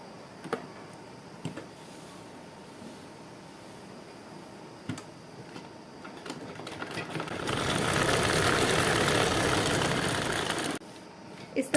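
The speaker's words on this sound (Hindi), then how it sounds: "अब हम दूसरी वाली पॉकेट में भी यहाँ सिलाई लगा लेंगे" A sewing machine stitches a seam across a fabric pocket on a hanging wall organiser, running as a steady loud whir for about three seconds after a few quiet ticks and clicks of handling.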